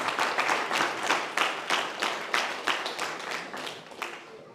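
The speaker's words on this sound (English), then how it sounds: "Clap, clap, clap." A small audience claps at a death anniversary memorial gathering in Kortrijk, Belgium, with a dozen or so sharp, separate hand claps coming in an uneven rhythm at a fairly close distance, and no one speaking over them.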